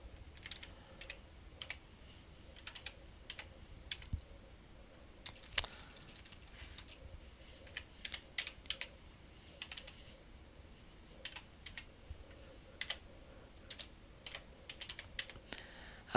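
Nameserver typed into a web form on a computer keyboard, with quiet, close clicks arriving in short irregular bursts and pauses over a low room hum.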